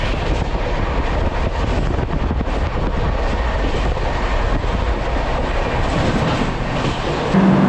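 Sealdah–Jalpaiguri Road Humsafar Express train running fast, a loud, steady roar of wheels and rolling stock with faint clickety-clack throughout, heard from on board with no talk.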